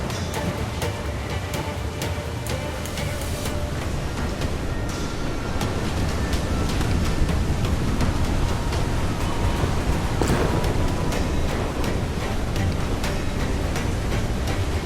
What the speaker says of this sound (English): Water spout, man!